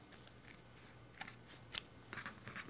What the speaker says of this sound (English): just go ahead and cut a straight line